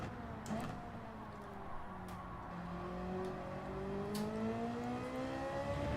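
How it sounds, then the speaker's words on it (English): A Ferrari race car in Gran Turismo 7 drones through a corner with understeer, its engine note sliding down and back up in pitch under steady tire noise, with a few faint clicks. "Little bit of understeer there with the Ferrari."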